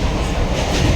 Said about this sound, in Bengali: আমারও ট্রেন চলে এসেছে নৈহাটি লোকাল, আমি এবার ট্রেনে উঠবো